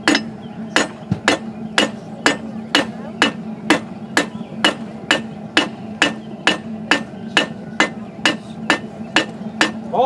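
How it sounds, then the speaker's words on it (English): A blacksmith strikes a metal leaf on the corner of an anvil with half hammer blows, a steady run of about twenty sharp ringing hits at an even pace, close and loud. "Use the corner of the anvil. I'm doing half hammer blows."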